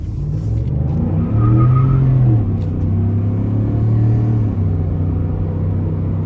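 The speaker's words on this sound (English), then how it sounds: "give it a nice pull in sport mode coming out of this corner" A 2019 Ford F-150 XLT V8 pulls hard in sport mode out of a corner, its deep engine rumble swelling and holding strong as it accelerates, heard from inside the cab with no talking.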